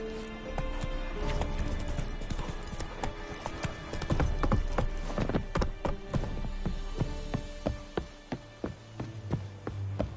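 Roach, the horse in The Witcher 3, gallops with rapid, close clip-clop hoofbeats that are loud and continuous, and a whinny stands out along the way, with no talk over it.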